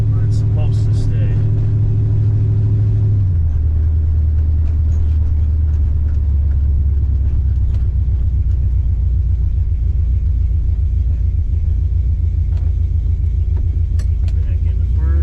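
1970s Plymouth 340 Duster with a manual-reverse valve body automatic transmission, V8 engine droning steadily in third gear from inside the car, the pitch dropping after an upshift, loud and continuous under someone talking.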